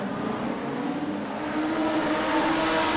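Modified sedan race cars roar around a speedway oval at Blue Ribbon Raceway, a continuous distant engine drone with a slowly rising pitch and no clear passes.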